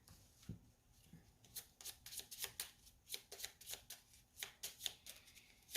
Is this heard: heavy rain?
no